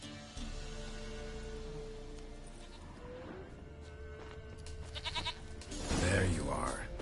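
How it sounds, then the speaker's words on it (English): A goat bleats in The Witcher 3 video game, a few short calls near the end over ambient game sounds and background music, with a voice talking earlier. "Here, goat."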